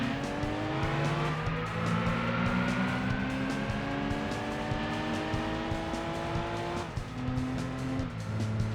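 A Daihatsu car in a Gran Turismo 2 one-make race revs hard, its engine whine climbing steadily through the gears. There is a quick shift and drop in pitch before it rises again, loud and continuous.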